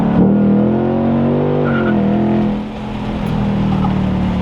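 A 2026 Ford Mustang GT Premium's engine roars loudly as it accelerates hard in drag mode, pitch climbing steadily, with brief tire chirps as the power comes on.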